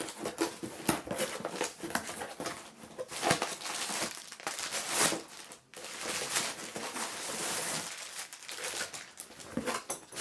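Crinkly, crackling handling of a tiny, very light cardboard box package being opened indoors, with irregular rustles, tears and taps close by and no talking.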